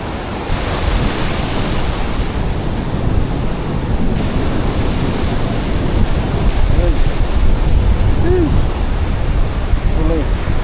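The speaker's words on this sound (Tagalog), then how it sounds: "Lalaki ng alon." Large ocean waves break over a reef in a continuous, loud roar of surf and wind noise, with brief faint sounds near the end.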